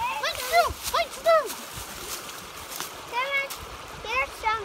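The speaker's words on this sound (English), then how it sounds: "Playing in the water." Children play in the water outdoors, with light splashes and sloshing heard beneath their high excited voices and chatter.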